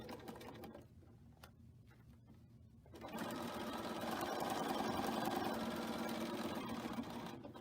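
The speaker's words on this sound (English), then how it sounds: "Stitch it first, 1/4 inch seam." A sewing machine stitches layered quilt garter pieces with a quarter-inch seam, starting softly and then running steadily and louder at close range for several seconds without pause.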